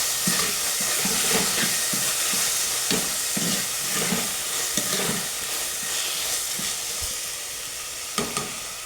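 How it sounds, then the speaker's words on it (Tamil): Tomatoes and meat curry ingredients sauté in a clay pot, a continuous close sizzle punctuated by a regular rhythm of stirring strokes and light knocks of the spoon against the pot. "எல்லாம் போட்டு நல்லா வதங்க விடணும்."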